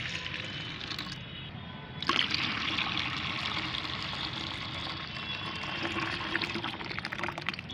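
Homemade liquid fertilizer pours into a container in a close, steady trickle and splash that starts softly, then grows fuller and louder about two seconds in and keeps running to the end.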